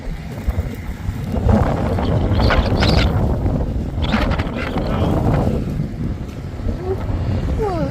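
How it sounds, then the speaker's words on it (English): Strong gusting wind during a winter storm turning to snow roars and buffets against the microphone in a continuous, loud rush that swells and eases over several seconds. "That wind about blew the camera out of my hand."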